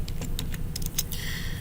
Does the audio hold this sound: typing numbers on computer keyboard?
yes